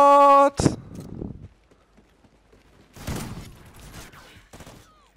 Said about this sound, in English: How the hell was that gunshot like too far away?